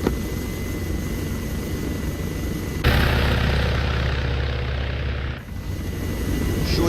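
Military helicopter in an Arma 3 combat mission near an airfield, a steady rotor and engine drone that swells louder and nearer for a few seconds before dropping back to a constant background roar.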